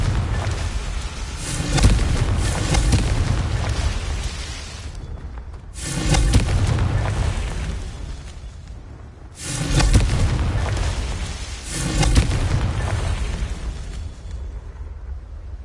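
Repeated explosion blasts from the Confringo spell in the video game Hogwarts Legacy, four loud booming bursts at roughly even intervals, each with a long rumbling tail, no talking over them.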